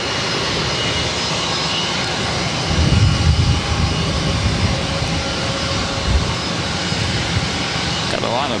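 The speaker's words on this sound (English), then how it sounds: "Got a lot of planes going on here." Jet airliners taxiing and flying at Boston Logan airport produce a steady, broad engine roar that rises to a louder swell partway through, heard from a moderate distance across the airfield.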